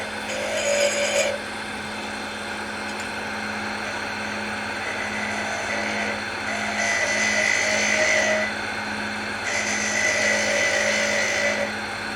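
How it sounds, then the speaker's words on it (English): Spindle gouge cutting a wooden ornament shaped like a light bulb on a wood lathe, with the motor hum running steadily and three louder bursts of tool-on-wood cutting, all heard close up and with no talking. "let's go ahead and grab our spindle gouge and we're going to come in and clean this up right here."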